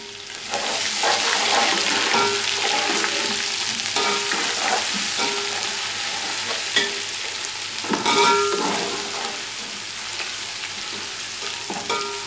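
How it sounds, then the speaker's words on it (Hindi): Golden-brown onions sizzle steadily in a pan as crushed ginger and garlic are added for chicken pulao, a close, bright frying hiss with a few stirring scrapes and no talk. "अब हम इसमें अदरक लहसुन डाल देंगे जो हमारे पास कुटा हुआ था"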